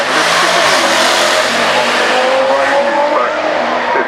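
A naturally aspirated Ford GT4 race car roars past under hard acceleration at the Goodwood Festival of Speed, a loud, sustained engine howl with rising pitch and a faint tire squeal.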